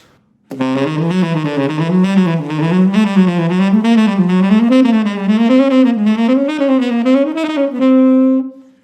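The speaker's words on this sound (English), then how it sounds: "we're just going to add a chromatic approach note at the end of the bar to bring us into the next scale degree" A diminished scale exercise with chromatic approach notes leading into each scale degree, played as a fast, continuous run of bright sustained notes rising and falling in waves, ending on a held note, clear and alone.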